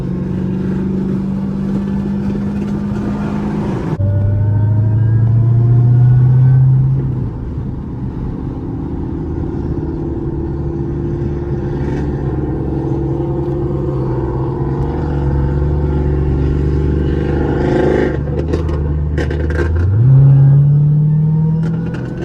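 A car engine rumbles and revs nearby, with low idling drone and throttle blips, and intermittent crackle suggesting exhaust pops.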